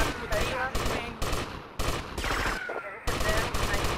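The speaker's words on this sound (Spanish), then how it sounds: "Oh, ¿quién me dispara?" Rapid bursts of gunfire in GTA Vice City Definitive Edition, loud shots and automatic volleys in choppy clusters separated by brief gaps, with someone talking excitedly over the shooting.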